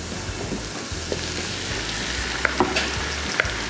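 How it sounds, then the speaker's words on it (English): Tomatoes going into a pot of hearty homestyle chili, with a steady sizzle and frying crackle under scattered stirring clinks and taps. "Time to add our tomatoes."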